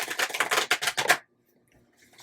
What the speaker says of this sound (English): My table's moving when I shuffle.